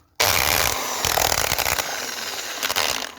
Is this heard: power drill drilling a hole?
yes